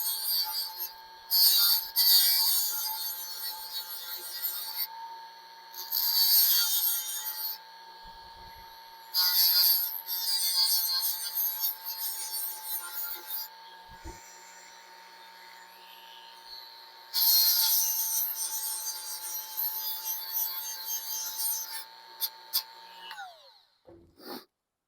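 Tool trimming the edge of a plastic snowman blow mold to fit, heard as repeated bursts of scraping and rasping separated by short pauses, close and fairly loud over a steady tonal hum, ending in a brief clatter.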